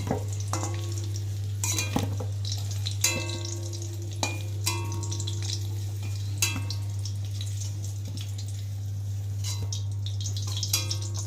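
Fried potatoes for biryani are lifted out of hot oil, a soft ongoing sizzle broken by repeated light clinks and scrapes of a utensil, over a constant low hum and with no speech.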